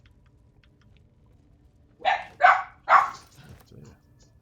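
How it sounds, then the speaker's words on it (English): An energetic puppy in Baldur's Gate 3 lets out three quick, loud yapping barks in a row, followed by a couple of softer yips; a voice speaks briefly nearby. "An energetic puppy in the background."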